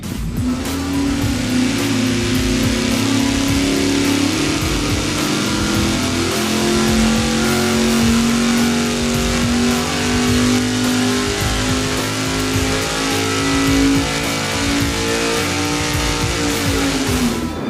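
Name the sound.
engine running on dyno, testing budget fuel pump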